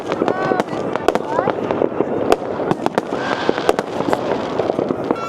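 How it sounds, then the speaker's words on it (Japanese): New Year's Eve fireworks in Oslo, Norway crackle and pop continuously at a distance, sharp bangs scattered over a dense crackling bed, with a crowd murmuring and voices talking throughout. "結構長い間花火が上がってます。"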